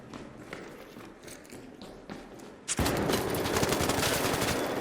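Rapid bursts of gunfire in the video game ARC Raiders break out suddenly and continue loudly, dense and crackling, after a few scattered softer shots at the start.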